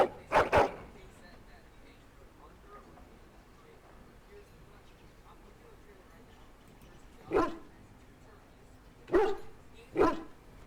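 A dog in Dragon Age: Origins barks in short, sharp bursts: a quick double bark at the start, then three more spaced barks near the end after a long quiet stretch.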